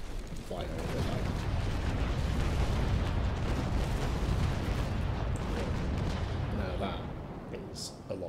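Ship cannon fire in the naval combat video game Naval Action, a dense sustained broadside roar of overlapping booms that stays loud for several seconds, then fades.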